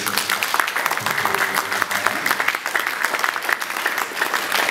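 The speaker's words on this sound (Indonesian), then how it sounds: "Mohon tepuk tangan." Audience applause at an art discussion event, steady close clapping from a gathered crowd that holds for several seconds with no talking over it.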